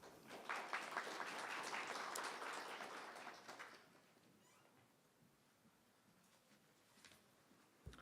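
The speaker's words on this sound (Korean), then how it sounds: "큰 박수로 맞이하여 주시기 바랍니다." An audience at a Seoul Technopark business briefing session applauds to welcome the director, a few seconds of fairly faint steady clapping that fades into a quiet room.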